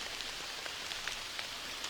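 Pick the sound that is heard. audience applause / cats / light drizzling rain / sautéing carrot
light drizzling rain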